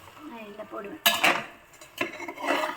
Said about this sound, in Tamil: நல்லா கிளறணும்